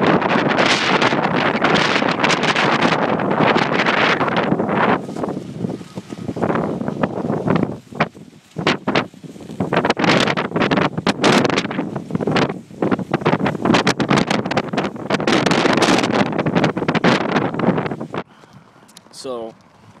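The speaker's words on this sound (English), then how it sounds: "one of the windiest parts in the world, the Columbia River Gorge" Strong wind in the Columbia River Gorge buffets the microphone in loud, uneven gusts with brief lulls, and a voice seems to speak beneath the roar.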